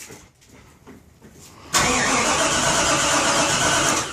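A 400 HP Ford Mustang engine cranks and fires up loudly and close by, then holds a steady, roaring idle.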